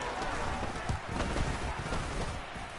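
Steady rain hisses down at an outdoor football game between the Saints and Broncos, a broad, even wash of noise with faint crowd murmur beneath, continuous and fairly quiet.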